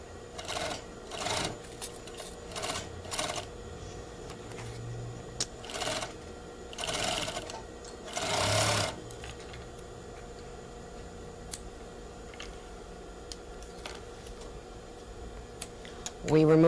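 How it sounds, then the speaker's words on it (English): A sewing machine stitches a zipper facing into place along a basting line, running in short bursts of rapid stitching separated by pauses, with a faint mechanical hum between runs. "Follow your basting stitch and stitch it into place."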